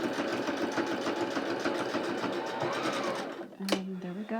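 A sewing machine stitches a pocket onto masterboard for a junk journal card, running steadily and loudly for about 3.5 seconds before it stops with a short mechanical clunk.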